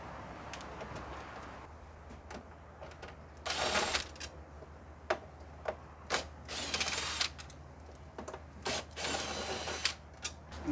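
Screws being undone on the cover of a K&N washable pod filter on a Ford Barra turbo: quiet ratcheting and scraping bursts, some several seconds long, over a low steady hum, close up with no talking.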